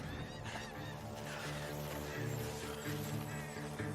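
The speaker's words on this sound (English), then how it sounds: "Over there, where the birds are." Geese honking in a cornfield in Red Dead Redemption 2, repeated nasal calls overlapping from several birds at moderate distance, over a steady ambient background.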